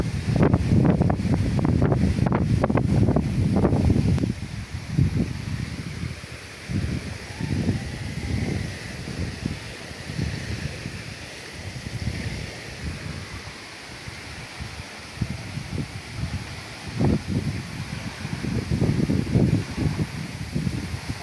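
Wind gusts buffet the microphone aboard a boat under construction, a loud rough rumbling that swells and fades in bursts over a continuous airy hiss.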